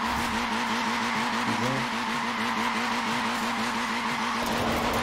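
A Mini Cooper drifts in Forza Horizon 4, its tires skidding in a long continuous squeal over a steady engine drone, loud and close throughout with no voices.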